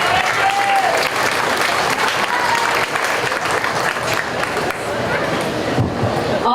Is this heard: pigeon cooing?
no